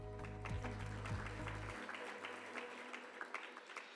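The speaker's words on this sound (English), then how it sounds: "It was a lot of clapping, a lot to celebrate today" Audience applause at a legal awards event, a dense patter of clapping from a seated crowd continuing after a low music bed cuts off, gradually thinning.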